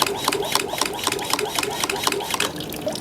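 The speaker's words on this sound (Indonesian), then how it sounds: "pompa cetak-cetok cepat ya, kanan tek-tok kayak gitu" Household water pump with a pressure tank cycling rapidly, giving a fast, steady train of clicking ticks over a continuous motor hum, close and moderately loud, with no talk.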